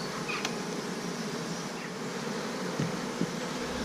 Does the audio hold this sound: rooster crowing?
no